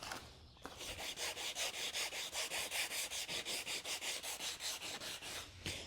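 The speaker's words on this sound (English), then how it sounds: "I'm going to sand the edges" Steady back-and-forth rasping of sandpaper on a kayak coaming edge, about twenty even strokes in a quick rhythm, close and fairly quiet.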